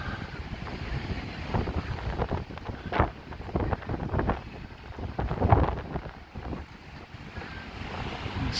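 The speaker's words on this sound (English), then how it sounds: "Really just can't escape that wind." Strong gusts of wind buffet the microphone on Blackpool promenade near North Pier. The roar is loud and continuous and swells and fades in irregular surges, with a low rumble underneath.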